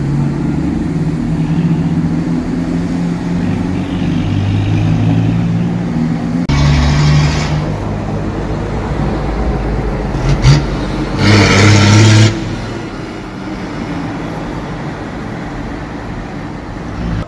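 Four-wheel drives cruising a road in Townsville: a steady low traffic rumble, with two louder vehicle passes swelling up close partway through, and no voices.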